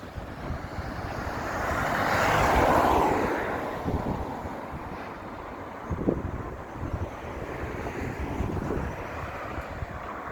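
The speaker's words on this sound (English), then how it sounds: "Wind." Wind blowing outdoors on the east bank of the Demerara in Guyana, a continuous broad rushing roar that swells in the first few seconds and then settles into steady buffeting with occasional low thumps.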